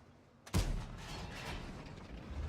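A tank cannon blind shot fired in World of Tanks, aimed at an IS tank's last-seen position: one sudden loud boom followed by a sustained rumbling roar and battle ambience.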